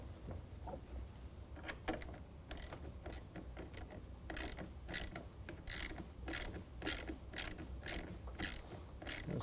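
A ratchet with a Torx T25 bit tightens the bolts of a Retrax IX tonneau cover on a 2019 Chevy Silverado, giving rapid runs of close, crisp clicking in repeated bursts with no talk.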